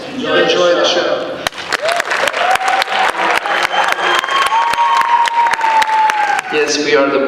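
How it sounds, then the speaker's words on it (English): Audience applause at a spoken word poetry showcase, sharp rhythmic claps and crowd noise breaking out after speech, with a voice and music tones continuing beneath and talk returning at the end. "Let's give another round of applause to Juanillo and the others"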